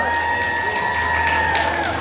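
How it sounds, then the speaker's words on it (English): A crowd cheers and applauds a stand-up comedian at an outdoor vegetarian festival, a steady wash of noise with a sustained tonal ring and low hum running underneath. "Give her a big round of applause."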